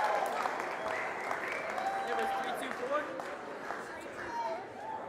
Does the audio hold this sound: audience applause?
yes